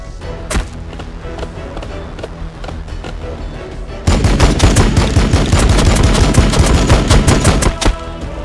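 Gunfire in the Warhammer 40,000 Battlesector game: scattered single shots at first, then a loud sustained stretch of rapid automatic fire with sharp repeating cracks.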